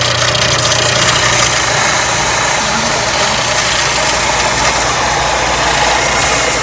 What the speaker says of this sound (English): we're using the belt sander